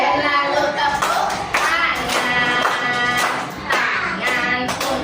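Sharp hand claps land in bursts during a sung children's action song in an Indonesian classroom lesson, close and fairly loud under the singing voices.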